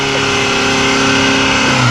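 Car engine revving hard during a tire-smoking burnout, a loud, steady, dense roar held at high revs throughout, close to the listener.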